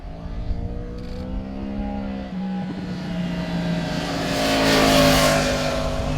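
A 2022 Yamaha MT-10 motorcycle engine with a titanium exhaust revs, its tone climbing and growing louder over several seconds, heard up close with no talking.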